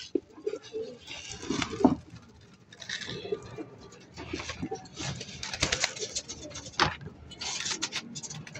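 Pigeons coo softly and intermittently near the listener in Lucena, Quezon, mixed with scratching and shuffling of the birds in their enclosure.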